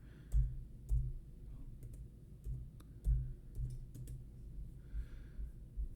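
Quiet clicking of keys on a computer keyboard, a few soft irregular bursts of taps with pauses between, close and faint with no talk.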